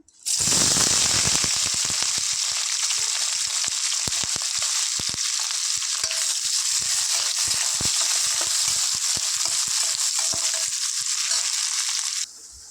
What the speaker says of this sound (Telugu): ఆయిల్ హీట్ అయ్యాక ఒక టూ మీడియం ఆనియన్స్ ఒక ఫిఫ్టీన్ మిర్చి వేసుకుంటానా